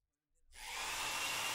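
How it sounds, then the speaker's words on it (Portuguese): A handheld hair dryer switches on after a moment of silence and settles into a steady, loud, close rushing blow, used to whip sand across an ant colony habitat like a desert sandstorm. "fui buscar o meu secador de cabelo e liguei-o"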